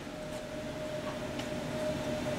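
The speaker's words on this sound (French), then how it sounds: "je vais augmenter la vitesse du ventilateur" The ventilation fan of a low-pressure maple sugar evaporator in a sugar shack runs as a steady broadband drone with a thin, constant tonal whine, moderately loud and without voices.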